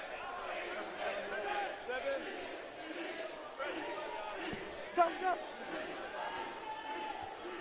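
Crowd noise at a 2020 Queensland Premier Rugby semi final between Easts and University of Queensland, a steady, lively murmur of spectators with a few brief bursts, heard under continuous commentary.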